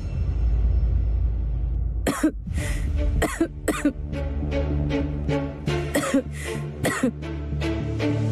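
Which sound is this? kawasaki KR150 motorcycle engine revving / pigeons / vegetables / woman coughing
woman coughing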